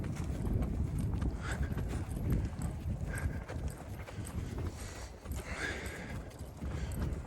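Mare and foal walking out to pasture past a barn, with a steady clip-clop of hooves on the ground under continuous outdoor rumble, fairly close and unhurried.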